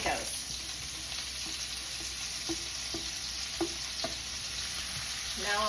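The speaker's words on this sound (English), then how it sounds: "We'll start with the celery and the peppers and the onions. In it goes." Celery, peppers and onions frying in a pan as they soften; a steady, moderately quiet sizzle with a few light clinks and stirring scrapes, the hiss swelling again at the very end.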